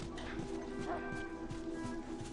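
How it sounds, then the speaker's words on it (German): A dog in The Last of Us video game barks and whimpers in short repeated yips, close and fairly clear, over a low steady background hum. "Hey, ein Hund."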